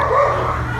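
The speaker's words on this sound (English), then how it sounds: "barking dogs" Dogs barking outdoors, somewhere beyond a house with a white chimney and green trees, a steady yapping mixed into a continuous wash of open-air noise, fairly loud but not sharply close.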